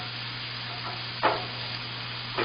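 Bear kabobs brushed with barbecue sauce searing on a grill, a steady low sizzle and hiss running throughout, with a couple of brief louder crackles near the middle and end.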